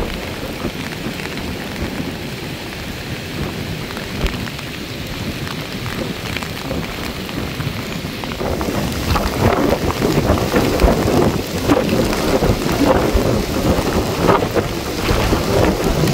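Heavy rain pours down on a village fishing outing in a storm, a dense steady roar that swells louder midway, with low rumbles of thunder and wind buffeting the microphone, nobody talking.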